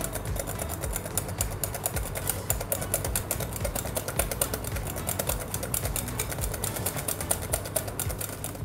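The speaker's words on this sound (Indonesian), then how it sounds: "Ini saya sambil tetap kocok, jadi supaya nanti sausnya tidak split" Rapid whisking of egg yolk with a stream of clarified butter into an emulsified sauce for eggs Florentine, a dense continuous clatter of whisk against bowl running steadily throughout, close and fairly loud.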